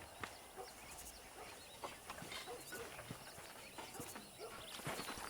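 Horse hooves clip-clop at a steady walking pace in the Western video game Red Dead Redemption, with a faint whinny and light ambient outdoor sounds around them.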